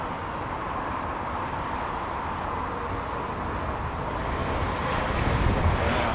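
British Airways Boeing jet arriving at London Heathrow, a broad steady engine roar with wind, heard from a distance and slowly swelling in loudness.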